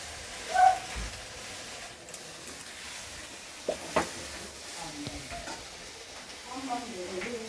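Whisked sour yogurt goes into potatoes frying in oil in a pan, bringing a soft sizzle and hiss with a few spoon scrapes and knocks against the pan, close but fairly quiet, with faint background noise.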